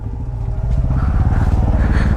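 Motorcycle engine rumbling steadily up close, with a pulsing low throb as bikes squeeze through narrow village lanes on a non-stop road ride from Delhi toward the Kartik Swami Temple.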